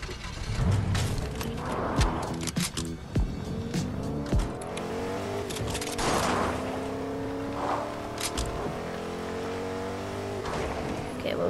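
Truck engine in Fortnite zero build duos, droning steadily with revving pitch shifts, tire squeals and game sound effects layered over the motor throughout.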